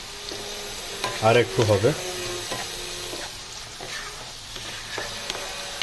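Capsicum sizzles steadily in a hot pan during chili chicken cooking, with stirring scrapes and brief louder bursts near the start, while a voice speaks briefly over it.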